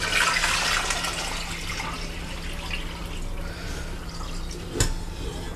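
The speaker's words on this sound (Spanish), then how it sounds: "ya lo tenemos en una olla más grande y lo cubrimos de agua" Water gushes into a large, deep cooking pot to cover tomatoes for preserving, a loud rushing pour that eases to a softer trickle, with a brief knock near the end.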